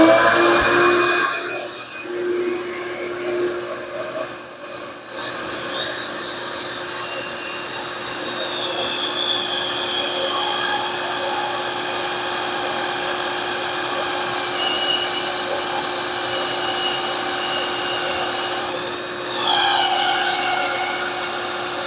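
A drill bores a hole in wood through a concealed hinge jig with dust collection running, a steady loud whirring and roaring hum that lasts throughout with shifts in pitch.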